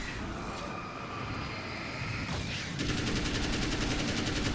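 Sustained gunfire in the video game Alan Wake's American Nightmare, a dense, continuous rattle of shots that grows louder and heavier partway through, with a steady mechanical drone underneath and no talking.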